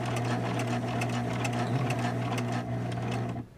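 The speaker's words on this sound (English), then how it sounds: "you're sewing around a circle" A sewing machine stitches a bag seam around a circular edge, running in a steady, continuous mechanical hum with a fast rhythmic needle rattle, close and loud throughout before stopping abruptly at the end.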